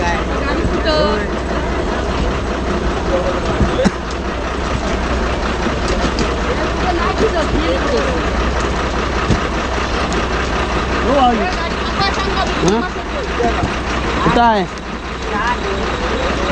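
A car engine runs at a steady idle in a Konkan village, a constant low rumble that stays level under people talking nearby for the whole stretch.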